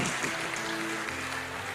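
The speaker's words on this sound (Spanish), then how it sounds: "Eso, aplauda al Señor." A church congregation claps during a Sunday sermon, a brief, fairly faint burst of applause with a voice carrying over it.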